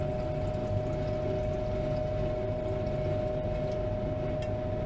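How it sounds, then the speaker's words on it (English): Hydrochloric acid poured into a gold refining container while refining Alaska placer gold, a steady, continuous liquid pour with a faint tonal hum underneath and no voices. "I'm going to add about 150 or 200 milliliters of hydrochloric acid. Here we go, pouring it right in."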